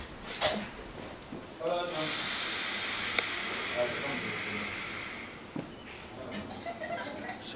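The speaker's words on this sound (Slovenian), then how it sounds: "Se pravi, piham 3 sekunde intenzivno" A person blows hard and steadily into a breath tester for about three seconds, a loud breathy hiss in the middle of the stretch, with short talk before and after.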